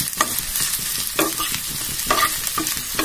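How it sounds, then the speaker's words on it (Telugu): Ridge gourd peels fry in a tablespoon of hot oil, with a steady close sizzle and repeated scraping stir strokes of a spoon against the pan, no voices. "ఒక టేబుల్ స్పూన్ ఆయిల్, కొంచెం వేడెక్కాక ఇలా చక్కగా వేయించుకోవాలి."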